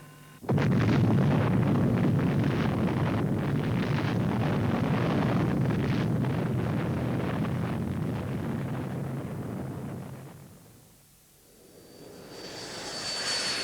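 Nuclear bomb test explosion from 1950s archive film: a sudden loud, sustained roaring rumble that holds steady for about ten seconds, then dips briefly before a hissing wind-like roar rises again.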